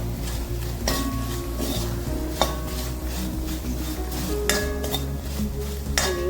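Potato fry sizzles in a pan beneath a steady low hum, while a utensil stirs and clinks against the pan in a few sharp, close taps.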